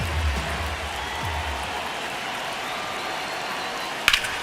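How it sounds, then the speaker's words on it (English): Steady crowd murmur fills Dodger Stadium in the video game MLB The Show 26, a broad even wash of ambience with low rumbles early on and a brief sharp crack near the end. "crowd getting settled here at Dodger Stadium"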